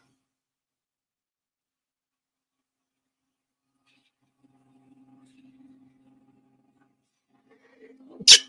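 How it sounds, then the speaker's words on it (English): Near silence with a faint low hum, then one sudden, loud sneeze bursts out close by at the very end. "Sneeze snuck up on me."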